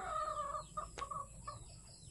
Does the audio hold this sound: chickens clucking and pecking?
yes